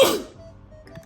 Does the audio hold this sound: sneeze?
yes